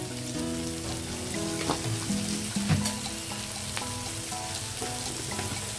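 Onions fry in a pan with salt and turmeric for a flat bean and green peas curry, giving a steady, close sizzle with small crackles over a soft tonal background.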